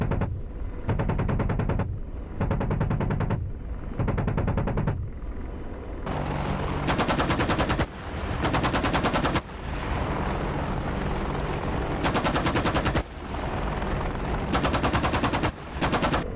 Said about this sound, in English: Gonna have to put some rounds into that building, unfortunately.